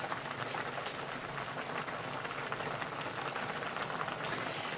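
Chinese soup bubbling at a steady boil in a pot, a continuous close, dense hiss and crackle with no voices, holding at an even level throughout.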